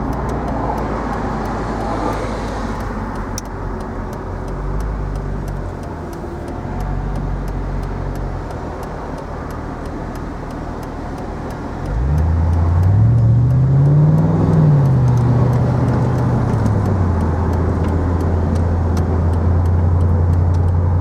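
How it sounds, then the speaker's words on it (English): A 2003 Mercedes SL55 AMG rolls through heavy traffic, its engine a steady low drone that swells into a louder, rising and falling rev partway through, with constant road noise throughout. "Traffic's heavy today, but you get an idea how good the car is."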